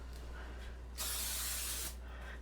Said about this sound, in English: Maybe let me spray it just a little bit.